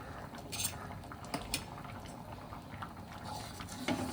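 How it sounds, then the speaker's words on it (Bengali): Fried masoor lentil dal with onion simmers in a pot, a low soft bubbling with a few light clinks of utensil against the pot, close and quiet. "আর কিছুক্ষণ ফুটতে দেবো, তাহলেই ডাল একদম তৈরি হয়ে যাবে।"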